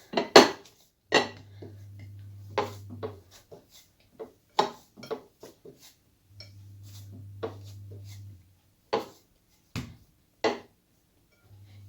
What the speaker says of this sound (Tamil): நல்லா உள்ளங்கையில் நல்லா ப்ரெஷர் கொடுத்து ஒரு டைம் நல்லா பிசைஞ்சு எடுத்துக்கலாம்